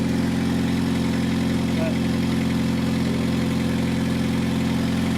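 A 1994 Honda Accord engine with newly fitted headers idles steadily, a continuous low hum with a constant even drone throughout and no revving.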